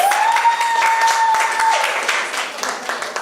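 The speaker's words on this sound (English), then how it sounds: "Another round of applause, please." Audience applause at a market research finalists' presentations and awards ceremony, a steady wash of many hands clapping, fairly close and even, with a sustained whistle-like tone running through the first half.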